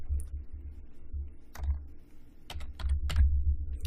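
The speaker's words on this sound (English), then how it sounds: "So I'm going to just type in audit." Keys clacking on a computer keyboard as a short query is typed in, a few separated bursts of clicks over a low background hum, fairly close and with no voices.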